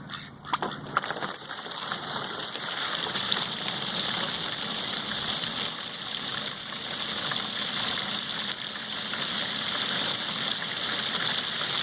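A steady rushing gush of water from a hose filling a kiddie pool, continuous and fairly loud, with a few faint knocks at the start.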